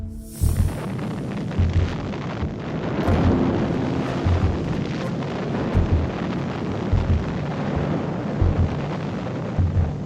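An explosion and fire at a petroleum storage tank farm produce a sharp opening blast, then a sustained, roaring rumble with scattered deeper booms and thuds continuing throughout at steady loudness.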